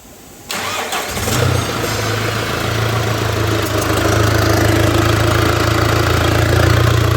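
A car engine cranks on its starter at about half a second, then catches and runs steadily, loud and close, with a continuous rough idle for the rest of the clip and no talk.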